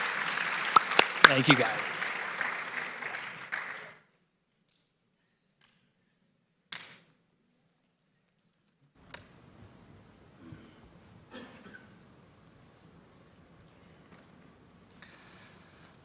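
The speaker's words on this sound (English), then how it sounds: "So let's give them another round of applause." An audience applauds after a medical simulation demonstration by medical students and faculty at a medical education conference. The clapping lasts about four seconds, then falls to near silence, with brief spoken thanks and light rustling after.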